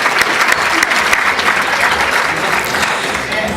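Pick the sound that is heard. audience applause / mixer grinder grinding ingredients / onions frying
audience applause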